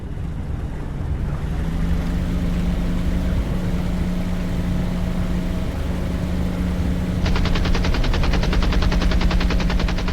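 P-47 Thunderbolt machine guns firing in the Birds of Steel flight game, gun convergence set to 50 meters: a dense, rapid stream of shots joins a steady engine drone partway through and keeps going to the end.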